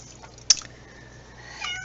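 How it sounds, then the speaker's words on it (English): A cat meows once, short and sharp, in the background of a room. A fainter drawn-out meow follows later over a quiet backdrop. "That would be Puddles meowing in the background"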